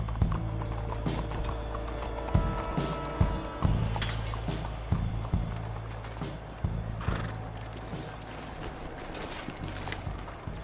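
A horse in Red Dead Redemption 2 neighs and clip-clops, with hooves thudding close alongside a whinny and scattered clatter of game sounds over a low background hum, no one talking.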